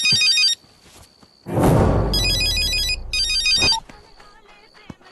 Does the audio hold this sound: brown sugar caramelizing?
no